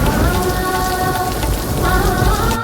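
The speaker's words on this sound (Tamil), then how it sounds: "மழை வேற பெய்யுதுமா, அக்கா வேற மழையில நனையிறாங்கம்மா." Heavy rain pours steadily onto surfaces, a dense continuous hiss and patter with low rumbling underneath, loud and close throughout with no voices.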